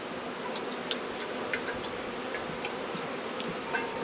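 A package of honeybees is being installed, producing a steady, dense buzzing hum close by, with faint ticks and clicks scattered through it.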